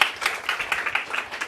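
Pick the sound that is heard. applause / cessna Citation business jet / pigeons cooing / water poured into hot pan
applause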